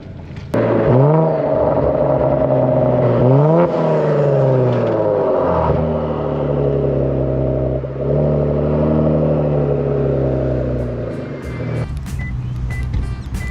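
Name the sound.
Kia Stinger with catless downpipes, exhaust and turbo noise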